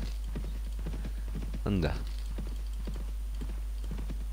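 Horse hooves clip-clop at a steady walking pace in Mount and Blade: Warband, a continuous rhythmic patter while someone talks over it briefly.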